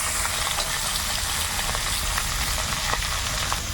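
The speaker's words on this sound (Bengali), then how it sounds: "এবার আমি চালটাকে ভালোভাবে ভেজে নেব।" Soaked basmati rice fries in hot oil with whole spices in a pan, giving a steady, close sizzle with light stirring scrapes and no talking.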